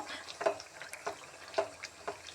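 Tamarind pulp for amla pickle frying in oil, faint soft sizzling broken by a few light stirring scrapes at an uneven pace.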